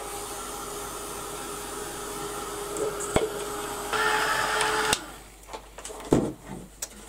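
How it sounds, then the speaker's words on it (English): A heat gun blows hot air onto a freshly painted spring craft piece, a steady loud broadband hiss from the start that rises briefly, then cuts off with a few clicks and handling knocks. "so let's get the heat gun and give it a quick blast"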